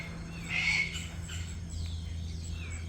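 An unseen bird calls from high in a tree, giving a short, fairly loud cry followed by fainter chirps over a low steady hum.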